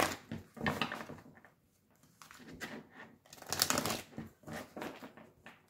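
Tarot deck, the Tarot de la Bienveillance, being shuffled by hand: close, papery riffles and slides in irregular bursts with brief pauses between, moderately loud and without speech.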